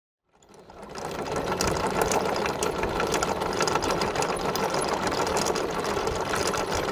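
Boat motor running steadily as a sailboat motors out of a cut near Cabbage Key after pulling anchor, a close, continuous rattling engine drone that starts abruptly and holds level, with no talk.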